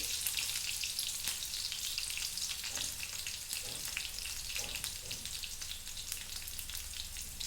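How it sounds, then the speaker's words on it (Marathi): Cumin seeds fry in a pan with a steady, close sizzle and light crackling, soft and continuous, with a few faint clinks of stirring. "तर मग जिरं टाकू आपण यामध्ये"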